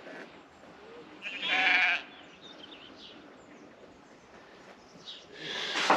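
Sheep bleat twice at a distance, a short call and then another, over a quiet outdoor background.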